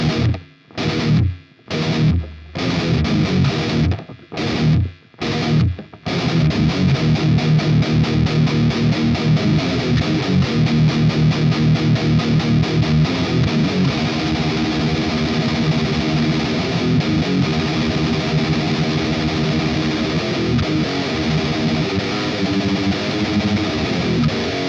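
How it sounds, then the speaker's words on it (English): A death-metal song's main riff is played slowly on a heavily distorted electric guitar in Eb tuning, opening with a few choppy stabs separated by silences, then settling into a sustained, loud, continuous riff. "That's the whole main riff. So played slow, it sounds like this."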